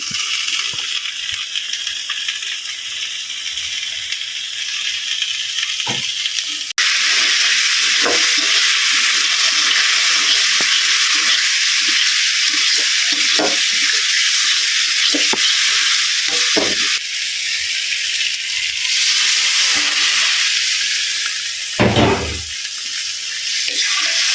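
Fish curry in a pan with ginger paste and spices fried until red, then water added: a steady, loud sizzling hiss with scattered soft clicks of stirring and a brief sharper burst near the end, no voices.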